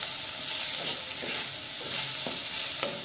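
Ivy gourd (kundru) frying in an open pan, a steady loud sizzle with occasional stirring scrapes throughout, no voices.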